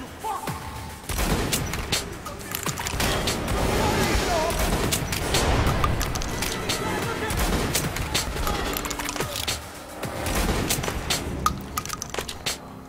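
Dense, sustained gunfire from a weapon in the video game Metro Last Light, rapid shots and cracks layered almost continuously across the clip with a brief lull near the ten-second mark, with a voice speaking under the shooting.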